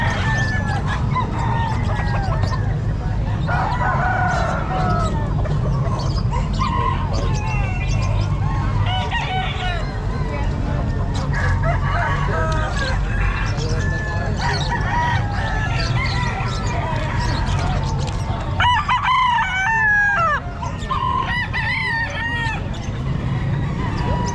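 Lemon Sweater gamefowl roosters crow over a dense, noisy pet market crowd, with overlapping crows and clucks from several birds amid constant background chatter.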